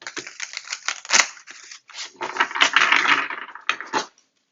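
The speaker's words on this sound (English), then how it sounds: "Let's shuffle one more time." A deck of tarot cards shuffled by hand, a close, crisp flurry of riffling and snapping card edges in short bursts with brief pauses, no talking.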